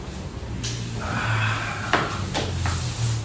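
A portable beach chair being assembled gives off a run of close plastic and metal clicks and knocks, with a soft rustle and a few sharp snaps of the frame locking into place.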